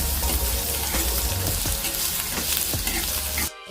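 Paratha filling sautés in a hot pan, a loud continuous sizzle with occasional stirring scrapes, cutting off abruptly near the end.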